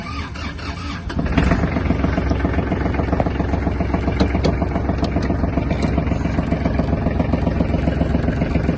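Kubota GL-241 Japanese mini tractor with a diesel engine cranking and catching about a second in, then settling into a loud, steady, close idle with an even rapid chug.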